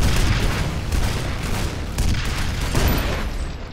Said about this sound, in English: Please stop shooting rockets at me.